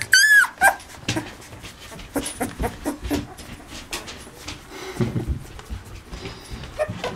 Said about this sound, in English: Hey, you learning to bark real early.